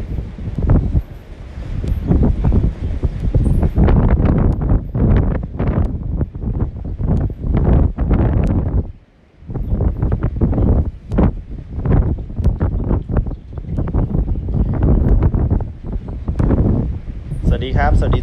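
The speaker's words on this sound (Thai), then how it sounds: "วันนี้ลมแรงนะที่ฟาร์มก็จะลมแรงหน่อย" Strong wind buffets the microphone on a farm, roaring in loud continuous gusts with a brief lull midway, while someone talks over it throughout.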